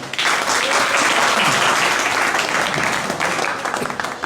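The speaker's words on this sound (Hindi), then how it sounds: "तो हम चाहेंगे एक बार अपने कोचिंग के लिए आप लोग एक बार ताली बजा दें" Students applaud for their coaching centre, Lakshya coaching centre in Saharsa, a loud, dense burst of clapping from a packed room that holds steady throughout before thinning slightly at the end.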